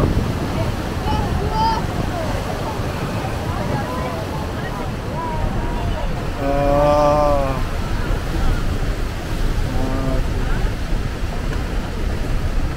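Rushing water and surf-like waves at the Rhine Falls, a steady broadband roar with wind buffeting close to the microphone, while people talk over it throughout.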